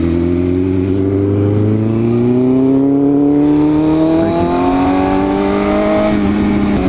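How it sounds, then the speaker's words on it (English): Loud, close engine exhaust roaring as it revs steadily upward for several seconds, the pitch climbing smoothly with no talk over it, heard on a street ride alongside a Corvette. "this exhaust is screaming in my ears right now"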